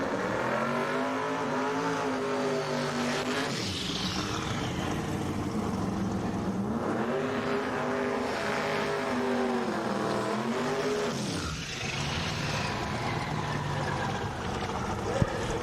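A 2002 Camaro drag car with a big block Chevrolet engine roars through repeated rising revs and gear changes at a Florida No Time Shootout drag race, loud and sustained with pitch sweeping up and dropping several times.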